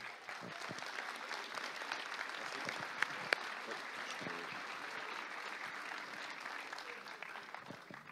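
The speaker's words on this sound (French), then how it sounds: "vous pouvez vous applaudir vous-même" A crowd at the closing ceremony of the French chess championship in Alpe d'Huez applauds itself: steady, dense clapping that fills the whole stretch at a moderate, slightly distant level, with a couple of sharper claps standing out.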